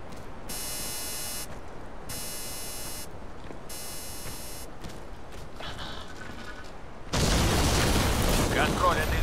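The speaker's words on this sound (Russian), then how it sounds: "Второй взрыв у церкви." Explosion near a church in the video game Crysis 2, a sudden loud broadband blast erupting near the end after repeated high electronic beeps and mechanical creaks.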